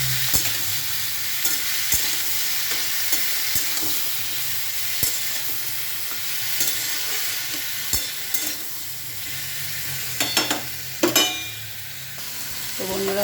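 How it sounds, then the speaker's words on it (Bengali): Capsicum fries lightly in oil with a continuous soft sizzle, punctuated by regular sharp clinks of a spatula stirring against the pan and a few louder scrapes near the end, no talk. "হালকা করে ভাজা ভাজা করে নেবো"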